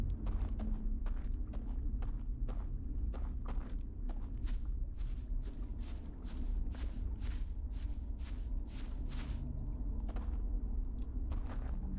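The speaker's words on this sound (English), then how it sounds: "How close do you think I can get before they hear my footsteps?" Footsteps in the video game Outer Wilds: Echoes of the Eye, a steady run of crisp, evenly spaced steps carrying on over a low rumbling ambient bed, fairly close and continuous, with no one talking.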